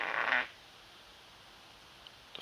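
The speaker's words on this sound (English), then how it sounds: "The fart." A single short fart, loud and close, lasting about half a second, then near silence.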